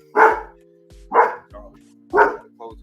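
A dog barks three times at close range in roughly one-second intervals, each loud bark followed by a softer yelp, over a steady low electrical hum.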